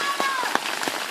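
Rain falls steadily in a village in Punjab, a dense close hiss of drops on surfaces. Faint voices and a few brief splashes or footfalls sound through it.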